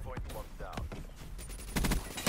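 Rapid bursts of gunfire in a shooter video game, several quick close shots and a loud volley near the end, layered over game noise and a voice talking.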